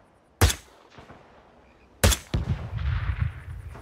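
Two sharp gunshots from Hitman ring out about a second and a half apart, each a loud crack with a short echoing tail, and faint rumbling and movement noises follow the second shot.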